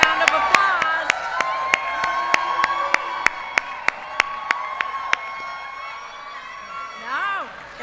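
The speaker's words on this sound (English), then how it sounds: "Give him a big round of applause." Crowd at a campaign rally with the Vice President cheers and claps for the second gentleman, loud and steady, with sharp regular beats through the cheering before it fades and a voice rises near the end.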